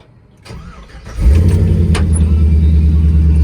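A 1970 truck with an LS swap cranks over briefly and then fires into a loud, steady, deep idle that holds for a couple of seconds.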